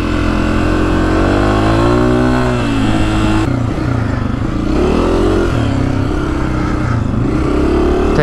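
A 2024 Honda CRF250F dirt bike ridden through 110-degree desert heat roars loudly and continuously, its engine note rising and falling as the throttle shifts, with rough wind buffeting mixed in.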